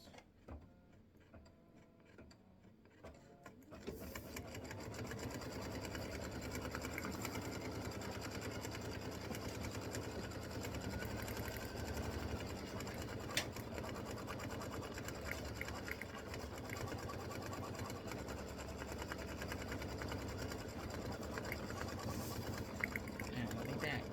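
An embroidery machine stitches the stem of an appliqué rose for a Valentine bear paper towel holder, running as a steady, loud mechanical whir with rapid ticking needle strokes for about twenty seconds after a quieter start.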